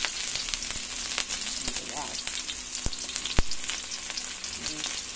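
Garlic and onion sauté in a pan, giving a steady close crackle and sizzle broken by sharp spoon taps and clicks on the pan.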